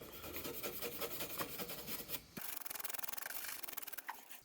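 A brush scrubs rust off a metal top box in quick, rasping strokes, first a dense gritty rubbing, then after a brief pause a run of rapid, evenly spaced scratchy strokes, close and fairly faint.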